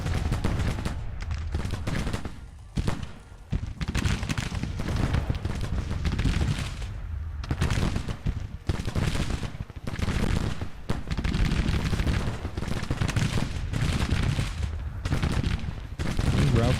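Musket volleys and artillery fire from a Grand Tactician: The Civil War battle, with loud, dense crackling gunfire and heavy booms rolling almost continuously and close throughout, with brief lulls between bursts.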